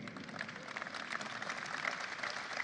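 Parents at a presidential event in the distance give a dense, steady patter of applause, faint and continuous.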